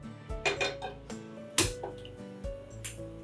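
In a home kitchen making tikhat sheera with roasted semolina, a metal pan scrapes and clinks as it is set aside. Several sharp, light knocks of cookware follow, fairly quiet and close.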